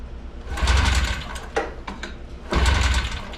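A Yamaha Enticer snowmobile engine, just fitted with a repaired carburetor and running without its choke cable, sputters through short mechanical bursts, firing briefly, dropping off, then catching again close by.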